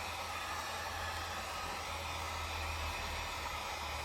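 A heat gun blows with a steady, unbroken hot-air roar while warming vinyl tint film on the headlight of a BMW E46, close and constant with no pauses.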